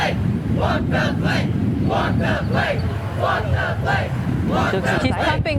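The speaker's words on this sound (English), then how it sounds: "So they're cheering now." A crowd cheers and chants in rhythmic bursts to pump up a woman about to walk the plank, loud and close, with voices rising and falling in repeated shouts.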